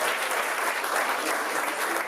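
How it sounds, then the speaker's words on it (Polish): Stand-up comedy audience applauding steadily for a woman in the crowd, a dense, even wash of clapping from many hands throughout, with no talk over it. "Dajcie brawa dla tej pani."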